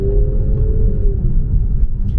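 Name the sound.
Infiniti Q50 VQ engine grumble with test pipes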